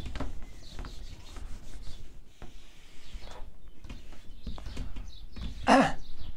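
Board eraser rubbing across a classroom board during a chemistry lesson, a steady scrubbing texture running for several seconds with a sharper rub near the end, close and fairly clear.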